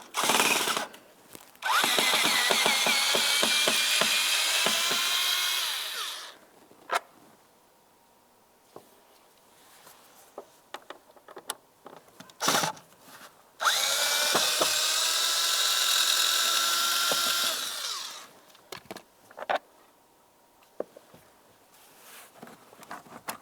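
Power screwdriver backing out Phillips head screws from a trim panel on a 2010-2013 Ford Transit Connect, two long whirring runs close up separated by small clicks and handling noises.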